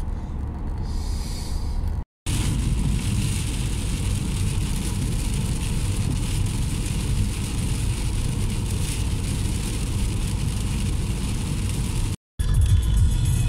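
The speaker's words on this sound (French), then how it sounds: "Ça se voit ou pas qu'il pleut?" Steady rain falls outdoors at a flea market, a dense, even hiss of drops close by that runs almost unbroken through the whole stretch, with two brief cuts to silence.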